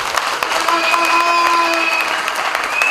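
Guests at a civil wedding ceremony break into loud, sustained applause, a dense wash of clapping from a crowd close by, with a few faint whistles or tones riding over it.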